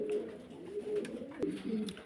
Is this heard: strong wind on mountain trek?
no